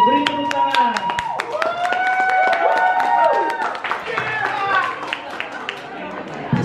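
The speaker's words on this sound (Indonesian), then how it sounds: "Beri tepuk tangan" Audience clapping for a modern dance performance by grade 11 high school students at a school graduation ceremony, scattered hand claps mixed with loud chatter and music tones throughout.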